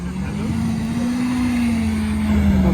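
A Ferrari 488 Spider engine revs with a rising, sustained tone that builds in loudness over a few seconds, with talking in the background.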